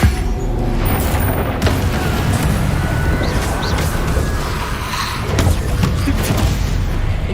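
Repeated magical fire blasts from the Incendio spell in Hogwarts Legacy, dense rumbling bursts and crackling booms layered over continuous loud combat noise, with no talking.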